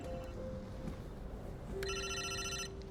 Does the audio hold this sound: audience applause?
no